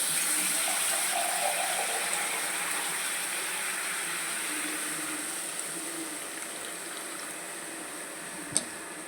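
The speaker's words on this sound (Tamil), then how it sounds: "கருப்பட்டியும் தண்ணியும் சேர்த்து பாகு காய்ச்சிக்கலாம்" Water gushes steadily into a pot of palm jaggery to make syrup, a close, continuous pour that fades slightly toward the end, with a brief knock near the finish.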